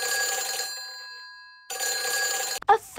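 A telephone rings in two clear bursts separated by a quiet gap, bright and steady with a tonal bell-like quality, followed by a brief clatter at the end.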